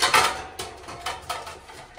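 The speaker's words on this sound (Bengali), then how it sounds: "দেখো বাইরে থেকে থালা বাসন ধুয়ে আনলাম, তো এখন এগুলো সাজাতে হবে, এখানেই সাজাবো" Freshly washed plates and utensils are stacked and arranged close by, with a run of clinks and clatters that is loudest at the start and then comes in irregular bursts.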